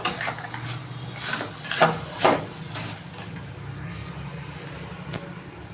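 Jackfruit masala sizzles and gets stirred in a pan after a spoonful of tomato sauce is added, a steady low frying hiss broken by a few clear scraping strokes of a spoon against the pan, with no talk.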